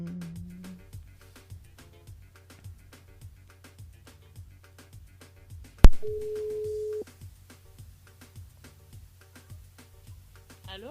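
Telephone line signal on a radio call-in switchboard, evenly spaced repeating beeps with a steady low hum, then a loud click and a sustained tone lasting about a second, with brief faint voices at the edges.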